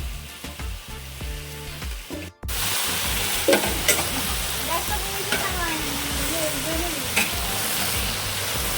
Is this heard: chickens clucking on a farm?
no